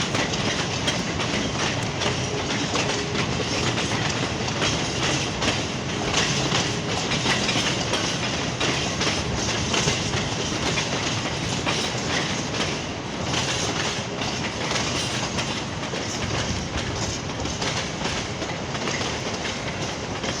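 A train on a yard movement pulls away past a station on the West Coast Main Line, a steady loud rumble with rhythmic wheel clatter and faint squeal continuing throughout, no voices.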